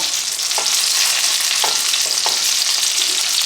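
Pork chops frying in a pan, giving a loud, continuous close-up sizzle with a few soft scrapes of stirring or turning, without any talking.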